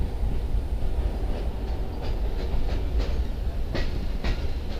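The Sukkur Express on Pakistan Railways in Sindh, pushed by an HGM 30 locomotive, with a steady loud rolling rumble and faint rhythmic wheel clicks running throughout.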